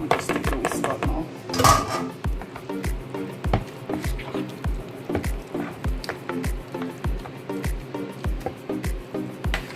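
A metal whisk knocks and scrapes against the bowl as it is lifted from sweet potato pudding batter, a close run of sharp taps and clinks at a steady rhythm with a wet squish in between.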